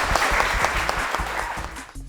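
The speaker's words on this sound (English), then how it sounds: "Let's have a round of applause" A crowd applauding, a dense patter of many hands clapping steadily before tapering off at the end.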